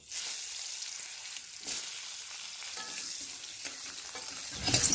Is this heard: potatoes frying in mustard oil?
yes